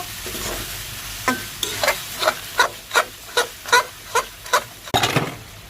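Broiler chicken pieces frying in a pan while being stirred, a steady sizzle broken by about ten rhythmic scraping strokes of a spatula, close and clear.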